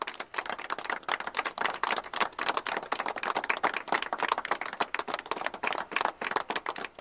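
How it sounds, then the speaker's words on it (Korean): Applause from an audience welcoming a finance minister introduced at a formal Korean political gathering, a dense, steady crowd clapping that carries on without letup for several seconds, no voices on top. "박수로 환영해 주시기 바랍니다."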